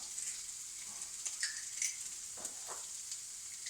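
Shallots sizzling in a pan with no added fat, only the leftover juices from beef kidneys, a soft steady crackle with a few brief stirring scrapes.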